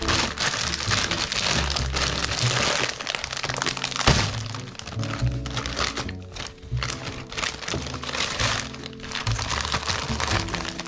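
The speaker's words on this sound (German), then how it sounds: "wenn wir die Tüte aufreißen und mal reingucken" Crinkly plastic bag of dim sum dumplings being torn open and rustled up close, with sharp cracks and crunching bursts, loud and uneven, no talking.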